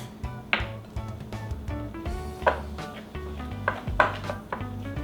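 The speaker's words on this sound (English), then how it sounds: "Just go ahead and keep on mixing." A spoon scrapes and knocks through thick low-carb paleo batter in a bowl, irregular clinks and thuds close by, with no talk.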